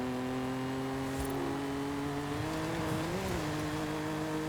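A BMW M4 drifts in the racing game Forza Horizon 5, its engine holding a loud sustained tone that wavers and dips as the car slides, with tire noise underneath and no talking.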